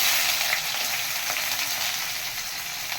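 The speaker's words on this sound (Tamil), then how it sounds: "நல்லெண்ணெய் ஊற்றுங்க. இப்போ சின்ன வெங்காயம் போட்டு" Small onions fry in sesame oil for a Madurai blood fry, producing a continuous, dense sizzle that stays close and fairly loud throughout, with no voices.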